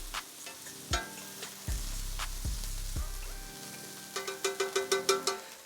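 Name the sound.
sautéing and stirring shrimp scampi in a pan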